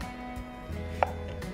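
A kitchen knife cuts carrots on a board, with one or two brief, close taps over a low steady hum in a quiet kitchen.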